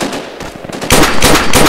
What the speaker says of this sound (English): I think they're shooting us.